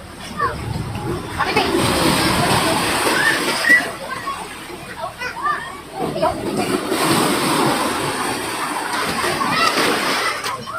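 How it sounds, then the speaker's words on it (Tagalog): Water rushes and splashes continuously at a river or falls in Malangas, Zamboanga Sibugay, a steady near hiss with people talking over it. "Nindot kayo sa dunggan ang tingog sa tubig."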